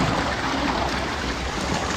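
A river being crossed on foot at Sitio Quinao gives a steady, full rush of flowing water, close and continuous with no talk.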